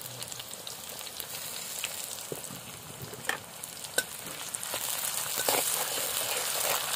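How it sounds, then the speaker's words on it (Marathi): Onion and tomato sautéing in a pan, a steady soft sizzle broken by occasional spatula scrapes and clicks, growing a little louder toward the end, close by with no talking. "कांदा परतून घेऊया. त्यात टाकूया टोमॅटो."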